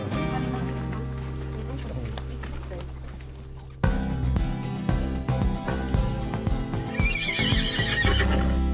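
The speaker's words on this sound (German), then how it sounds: "Auf dem Grubhof gibt es keine Kühe, sondern Ross. Genau gesagt, Vollblut-Araber." Thoroughbred Arabian horses on a farm in Thurgau: hooves clip-clop, and a loud, close neigh rings out near the end over a busy background.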